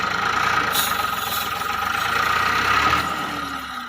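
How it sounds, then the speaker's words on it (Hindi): A Millat tractor engine runs steadily while hauling a loaded 16-foot trailer, a continuous loud mid-pitched drone with a faint knocking pulse underneath, holding even throughout with no talk. "चेक करो माशाल्लाह मिलत दे ट्रैक्टर दे 16 फुटा ट्राला लोड कर दिता ते परफॉर्मेंस"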